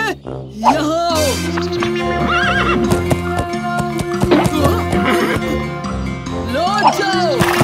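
Cartoon horse sounds from a Chhota Bheem story: a loud whinny and rapid clip-clopping hooves run over a bright musical score, with character voices chattering alongside.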